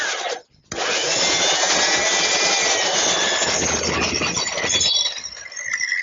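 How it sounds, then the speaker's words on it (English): Belt sander taking excess glue off a wooden flagpole outdoors, loud continuous high whine with a brief cutoff early on, then steady grinding that wavers slightly as it runs. "Best way to do that is with the belt sander"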